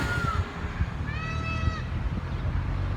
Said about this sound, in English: that's the sound of peacocks